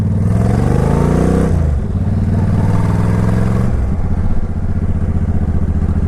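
A Suzuki Intruder 1500 motorcycle engine runs loud and close, its deep idle rumble rising in a rev, dropping back, then revving again.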